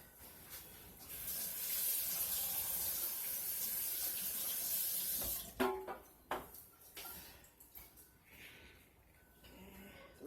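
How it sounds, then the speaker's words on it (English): Lye water pours into a soap mixture in a crock pot during hot-process soap making, a sustained splashing hiss for several seconds followed by clunks and handling sounds. "I just finished mixing the lye water, and I'm going to add it now."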